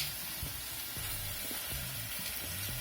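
Shrimp that were pre-cooked and frozen sizzle steadily in a hot pan, with a broad continuous hiss of frying and soft intermittent low clinks and bumps from the pan.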